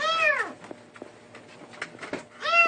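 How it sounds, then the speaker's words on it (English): A kitten trapped inside a wall meows loudly at the start and again at the end, with a few faint knocks and scrapes in between. "Oh, it's a kitten."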